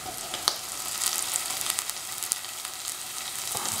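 Shrimp fry in a hot pan for shrimp fried rice, a dense, steady sizzle crackling with sharp pops throughout, close and alone without talk.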